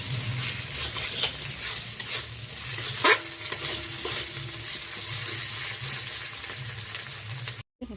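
Duck meat fries steadily in hot oil with spices for a duck curry, giving a continuous close sizzle with occasional stirring scrapes and one sharper clack.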